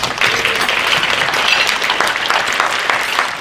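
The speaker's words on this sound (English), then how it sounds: "Let's give a round of applause to all of our corporate sponsors at this time." Audience applause for corporate sponsors at a leadership conference, a dense, steady wash of many hands clapping that stays loud and even throughout with no talk over it.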